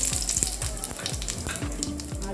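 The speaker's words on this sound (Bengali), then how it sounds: "আমি কড়াইতে তেল দিয়ে দিয়েছি, তেলটা গরম হয়ে গেছে। এবার আমি জিরা ফোড়ন দেব" Cumin seeds sizzling in hot oil in a wok, a steady crackling fry with repeated popping and spattering bursts, moderately quiet and close, with no talk.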